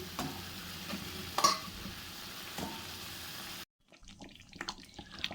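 Fried paneer slides into a boiling bottle gourd gravy, which then bubbles and simmers with a steady close hiss and a few clattering knocks. A brief break in the sound comes before quieter bubbling and scraping.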